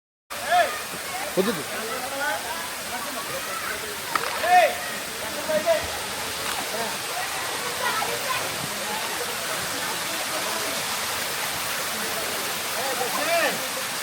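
Rushing water roars steadily from a waterfall at Maredumilli, with people talking and calling over it, the voices louder near the start.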